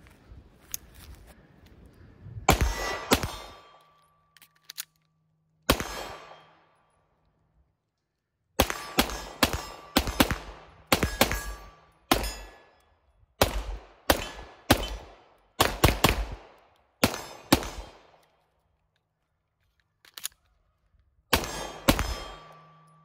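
A Tisas 1911 Night Stalker DS9 pistol fires a string of loud, sharp shots, some single and others in quick clusters of two or three, with short quiet gaps between them and no talking.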